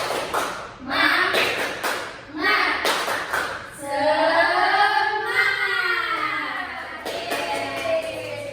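A classroom of students doing the rhythmic tepuk semangat clapping chant, sharp clap bursts in a pattern mixed with voices chanting together, followed by a teacher speaking.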